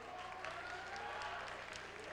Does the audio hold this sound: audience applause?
yes